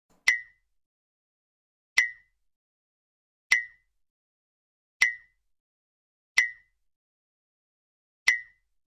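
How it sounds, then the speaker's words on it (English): A blinking sound effect from a soundboard repeats six times at roughly one-and-a-half-second intervals, each a short bright plop-like blip against silence. "A blinking sound effect."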